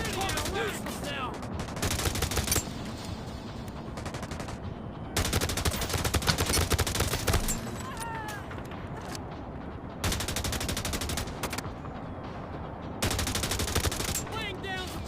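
Automatic-weapon fire in The Division Resurgence mobile shooter bursts out in several sustained volleys of rapid shots, separated by brief lulls of quieter in-game sound.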